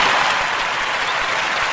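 Hand clapping during a legal discussion show with a real lawyer: a short, steady burst of close, dense claps with no talking.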